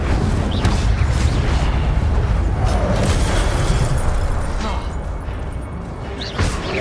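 A fire spell fires in the Hogwarts Legacy video game, a dense roaring burst with booming, crackling effects that sustains loudly across the whole stretch before easing slightly near the end.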